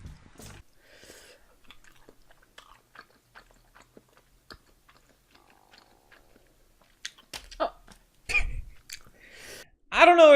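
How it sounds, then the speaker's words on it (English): Close-up chewing and biting of spicy, high-calorie food at a mukbang, soft moist mouth sounds with scattered crunches, building to louder, wetter bites near the end, with no talking. "I can't stand the sound of slurping, smacking, or whatever it is"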